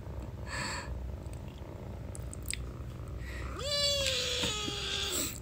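A cat purrs softly and steadily, then lets out a rising, drawn-out meow near the end, close and alone with no talk.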